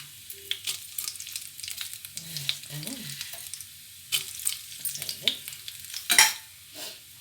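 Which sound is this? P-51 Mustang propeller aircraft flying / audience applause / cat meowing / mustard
mustard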